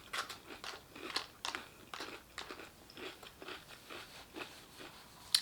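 Crunchy Halloween marshmallow cereal being chewed up close, a quick run of crisp, crackly bites repeating in an uneven rhythm, quiet and without speech.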